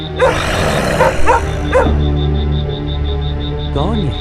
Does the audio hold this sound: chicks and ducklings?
no